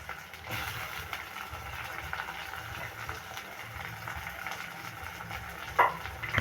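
Small shallots sautéing in oil for a Jaffna-style goat curry, a soft, low crackle of frying with light stirring and a sharp clink near the end.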